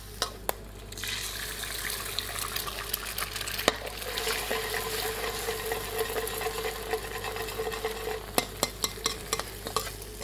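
Stink beans sizzle in a hot pan for Indonesian street-food nasi goreng, a steady frying hiss with sharp scraping clicks of a utensil stirring throughout, close and fairly loud.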